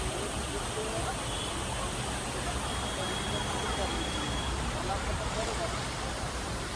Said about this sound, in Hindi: बैकग्राउंड में जो आवाज़ आ रही है वो झरने की है